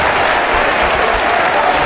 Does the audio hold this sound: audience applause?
yes